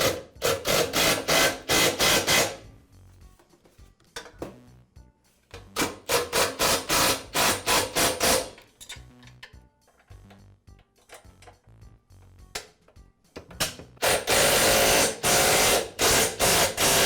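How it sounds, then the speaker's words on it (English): Bolts and nuts being fastened while a new lower handle is fitted to a Yard Machines lawn mower deck: loud bursts of rattling, clanking metal work, separated by quieter gaps and a few sharp knocks. "I'll align it with the deck and secure it with the bolts and nuts."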